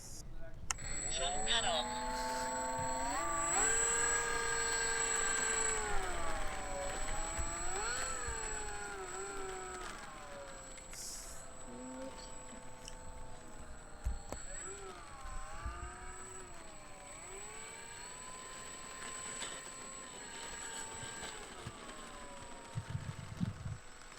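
Electric motor of a Dynam P-47D Thunderbolt RC plane whining at takeoff, a steady high tone that rises and shifts in pitch as the throttle changes, loud and close throughout.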